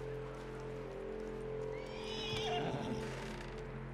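A horse in the video game Red Dead Redemption 2 whinnies once in a high, quavering cry over a steady low hum, with faint hoof movement beneath.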